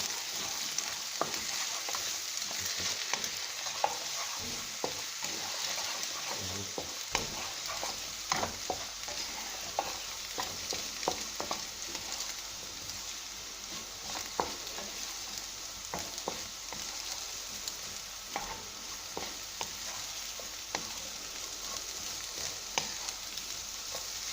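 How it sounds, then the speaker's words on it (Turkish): Egg is worked into potatoes frying in a pan with a spatula. A steady close sizzle runs throughout, broken by frequent scraping and stirring strokes, with no talking. "şimdi şu andan sonra bir spatula yardımıyla yumurtayı iyice patateslere yediriyorum"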